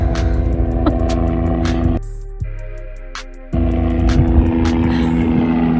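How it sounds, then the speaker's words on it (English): A loud whirring, thumping rotor drone fills the air, briefly dropping in level midway before returning at full strength, with no talking. "There's a really loud helicopter above me"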